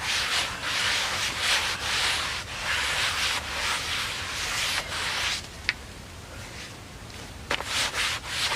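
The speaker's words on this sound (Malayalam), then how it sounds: "ഇതുപോലത്തെ തുണി എടുത്തിട്ട് നന്നായിട്ട് നൊപ്പിയിട്ട് വെള്ളം കളയാം" A cloth wipes a guppy tank dry, a steady close scrubbing rub in repeated strokes that eases off near the end with a couple of faint knocks.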